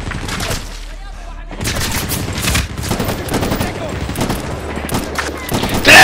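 Sustained automatic gunfire and scattered shots fill a Medal of Honor: Warfighter battle on PS3, loud and near, pausing briefly before resuming in heavy volleys with a sharp blast at the end.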